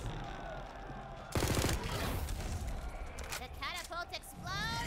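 Gunfire in a video game, shot at planted C4 to set it off, with a loud burst of shots near the start and busy game sound and chirps after it. Someone talks over it.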